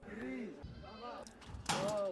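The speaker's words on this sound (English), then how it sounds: "Big ass sheep." Sheep bleat in a series of wavering calls, several in a row with brief gaps, the last one louder and sharper, with voices mixed in.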